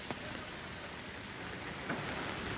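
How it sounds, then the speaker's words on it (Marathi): Steady rain falls in Mumbai, a soft continuous hiss with a few faint brief knocks, no voices. "मुंबईमध्ये पावसाची जी संततधार जी आहे ती थोड्याफार प्रमाणात जरी सुरू असली"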